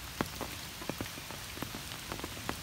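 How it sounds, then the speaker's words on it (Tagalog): Heavy rain pours down beside a swelling river, a dense steady hiss broken by frequent sharp drops striking nearby surfaces, with no talking. "Sobrang lakas ng ulan."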